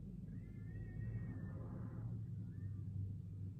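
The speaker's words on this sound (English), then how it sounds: "I heard a cat like screaming outside of my house." Faint cat cries drift in from outside a house, a few drawn-out wavering yowls over a low background rumble, distant and thin.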